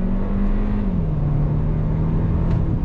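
A 2022 Hyundai Kona pulls hard on throttle, its loud engine drone dropping in pitch at a quick gear change before holding steady, close and continuous.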